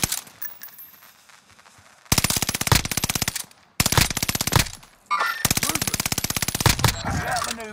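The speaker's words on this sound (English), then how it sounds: "You guys getting shot at?" Bursts of automatic gunfire in a multiplayer shooter video game, long loud rapid strings of shots broken by short pauses, with faint talk underneath.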